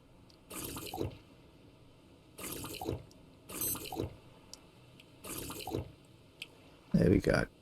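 Water containers are filled in the survival game Stranded Deep on a tropical island, with repeated bursts of splashing water pouring in regular intervals and a louder final gush.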